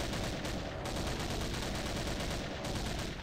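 Rapid, dense gunfire from a big weapon in a Doom map, a loud continuous burst of shots running the whole time with no talking.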